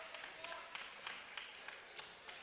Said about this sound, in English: hears an ovation from his crowd